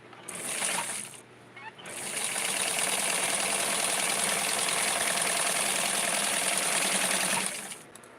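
A sewing machine stitching straight across a Dawn doll dress, a steady, close mechanical whir running for several seconds after a short burst and pause at the start.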